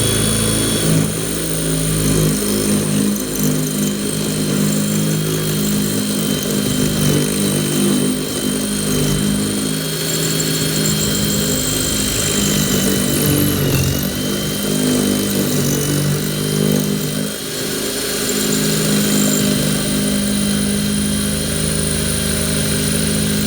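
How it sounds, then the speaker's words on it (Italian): Parkside Performance brushless cordless drill with a 6 mm masonry bit grinding into a concrete brick at speed 2, a loud, continuous strained motor drone close by, running unbroken throughout with no talking. "Adesso provo con una punta da 6 mm per il muro a forare questo pezzo di mattone in cemento"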